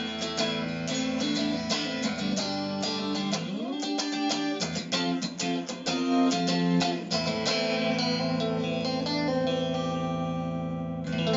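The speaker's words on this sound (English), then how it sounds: "then we'll do a bit on distortion" A Fender Player Stratocaster electric guitar plays a riff through distortion, with sustained chords and single notes, thick overdriven tone and a touch of chorus and reverb, loud and continuous without talk.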